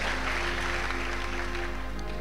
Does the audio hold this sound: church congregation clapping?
yes